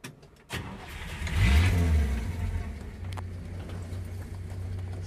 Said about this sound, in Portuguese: Seis cilindros quietinho.